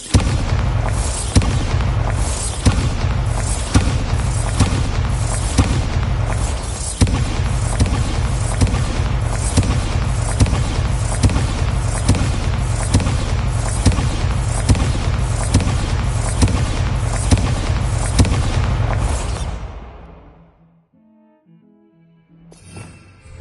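Bombarda spell explosions from the game Hogwarts Legacy burst loudly in a rapid, steady barrage for about twenty seconds, then fade away into near silence.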